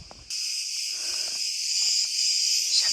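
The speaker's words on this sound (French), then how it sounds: "de temps en temps, les cigales, elles s'énervent" A loud, continuous high-pitched buzzing of cicadas in Crete starts abruptly and holds steady, with faint low knocks and rustles underneath.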